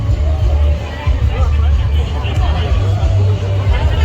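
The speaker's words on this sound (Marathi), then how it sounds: "गर्दी वगैरे गर्दी एकदम भरपूर आहे" Dense festival crowd hubbub at the Raigad Mahotsav market in Konkan, a continuous babble of many voices with low rumble, steady and loud throughout.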